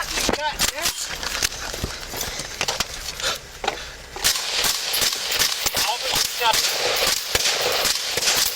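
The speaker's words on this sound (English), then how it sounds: "Shots fired, shots fired, shots fired, shots fired!" Gunfire during a police shootout on Mykawa Road in Houston, rapid sharp cracks scattered throughout amid loud chaotic noise and shouting voices, dense and close with little pause.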